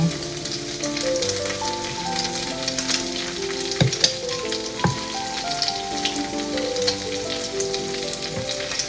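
Potato pancakes frying in a hot pan of oil, a steady close sizzle with crackling splatters and occasional sharp pops throughout, no talking.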